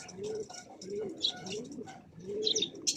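Racing pigeons cooing softly in a loft, repeated low throaty coos in a slow rhythm with scattered higher chirps overlapping, fairly faint and close.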